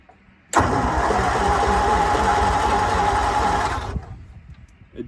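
A 1955 Ford grain truck engine cranks and catches, then runs steadily at a loud, close rough idle for about three seconds before it cuts off and the sound dies away.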